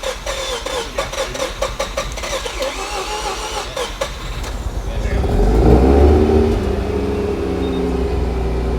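A rotary-engine car cranks over for several seconds with rapid ticking pulses, then catches and settles into a loud, steady idle, close by, with people talking intermittently over it.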